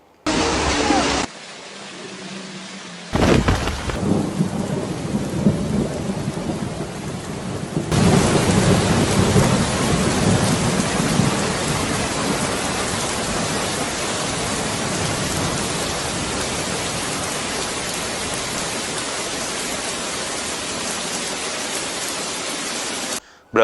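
Heavy storm rain pours steadily during severe flooding in Rio Grande do Sul, Brazil, with thunder rumbling under a loud, continuous wash of rain after a few abrupt cuts at the start.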